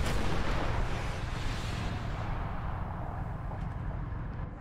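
A missile explosion in a combat video game, a loud, broad rumbling blast at the start that slowly fades and thins over several seconds, with no talking.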